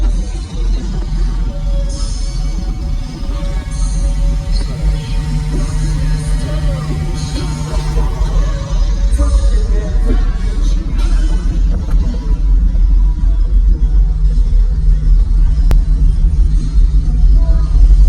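Powerful subwoofer bass booming inside a Toyota Corolla fitted with two 18-inch subs, a loud, steady low rumble filling the cabin, with people talking over it.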